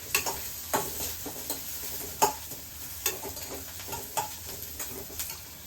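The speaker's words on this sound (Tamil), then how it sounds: "இது கொஞ்சம் வெங்காயம் வதங்குறேன்." Onions sautéing in a pan for a paruppu urundai kuzhambu, a quiet steady sizzle broken by a string of sharp spoon scrapes and stirring clicks in an irregular rhythm.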